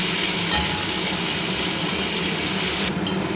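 Chopped onions frying in hot oil with a dried red chilli and five-spice tempering, giving a steady close sizzle throughout that thins slightly near the end, with no voices.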